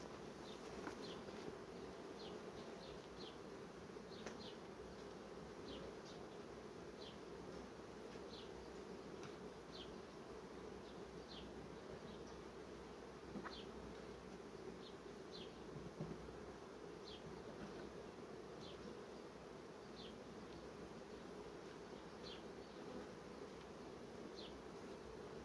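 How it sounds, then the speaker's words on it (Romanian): A colony of honeybees humming steadily at an open hive during honey flow, a dense continuous drone with individual bees zipping past nearby, no talking. "familiile de albine care au lucrat până acum, acolo scade albina"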